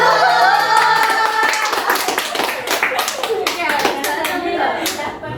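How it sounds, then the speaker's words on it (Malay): A group claps together in a rhythmic chicken clap during a classroom group counselling session, the claps busy and layered under a steady hum of children's and adults' voices. "tepuk tangan ayam"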